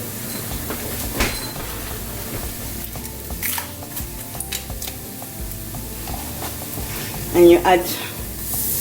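A butter and flour roux with milk is stirred in a pan, giving a soft steady scraping and a faint sizzle under a woman's occasional speech.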